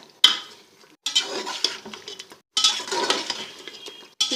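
Beef korma masala frying in a pot as it is stirred, bursts of sizzling and scraping of a spoon against the metal separated by brief pauses, close and loud with no talk.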